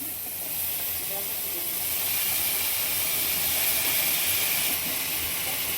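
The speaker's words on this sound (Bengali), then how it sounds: "এবারে সেদ্ধ করে রাখা ঝোলটা ঢেলে দিচ্ছি।" Boiled fish broth poured into a hot pan for a light shingi fish curry gives a steady, loud sizzling hiss that holds evenly throughout, with no talk.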